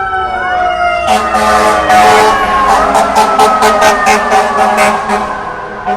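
Wailing sirens from emergency vehicles rise and sweep as they pass nearby, loud and layered, with a rumbling engine beneath.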